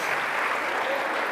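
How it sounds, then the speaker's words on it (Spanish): Steady applause from a church congregation fills the whole moment, dense and even, with no pauses. "Nuestro hermano Armando, le damos un fuerte aplauso en esta mañana."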